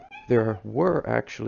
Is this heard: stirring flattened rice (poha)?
no